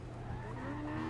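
Honda Civic on a race track taking an easy turn, a steady engine drone with a thin rising tire whine, continuous and fairly close.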